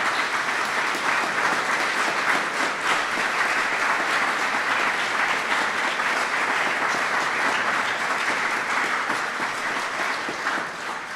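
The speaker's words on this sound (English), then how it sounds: "Would you give them all a round of applause for their comments?" Continuous, dense audience applause fills the room at a U.S. ambassador to Japan swearing-in ceremony, steady and fairly loud throughout before easing slightly at the end.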